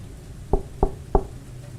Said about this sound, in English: The knock hadn't come from the front door.